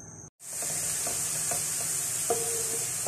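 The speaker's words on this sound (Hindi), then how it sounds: "और इसके अंदर डाल देंगे प्याज। और इसको हल्का सा लाइट ब्राउन करेंगे हम।" Sliced onions fry in about half a cup of hot oil. After a brief silence a loud, steady sizzle starts, close up, with light stirring taps at intervals.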